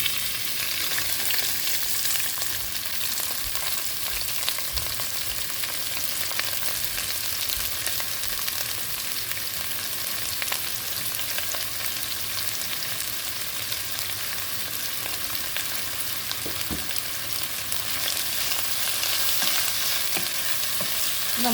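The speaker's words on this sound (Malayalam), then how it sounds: "നമുക്കിതൊരു ബ്രൗൺ കളറാവുന്നത് വരെ നന്നായിട്ടൊന്ന് വഴറ്റിയെടുക്കാം." Onion, ginger, garlic, green chilli and curry leaves sautéing in a pan for a Kerala chicken curry, an even, continuous frying sizzle with soft stirring throughout, no voices.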